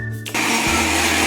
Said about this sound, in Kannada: ಮಿಕ್ಸಿಯಲ್ಲಿ ಹಾಕ್ಬಿಟ್ಟು ಗ್ರೈಂಡ್ ಮಾಡೋಣ.